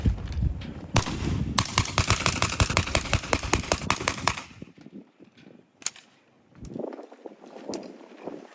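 Rapid bursts of M4 carbine gunfire ring out at an Army firearms demonstration, a dense string of loud, sharp shots for about four seconds, then a few scattered single reports amid outdoor noise.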